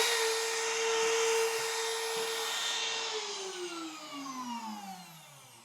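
An on-press brass case trimmer cuts cartridge cases, a high whining spin that holds steady and then glides downward in pitch as it winds down, close and alone with no talk.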